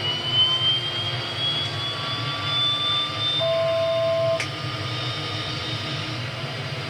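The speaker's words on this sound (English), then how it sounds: "Right engine started" A Twin Otter's right engine starts in a home-built flight simulator cockpit: a steady turbine-like roar with a high whine that climbs slowly in pitch, then shifts tone partway through, with no talking.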